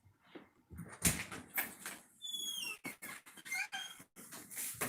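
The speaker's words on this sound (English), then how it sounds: "I got you a squeaky and a clicky." A squeaky dog toy being squeezed, a run of sharp, irregular high-pitched squeaks close by, some sliding into longer whines.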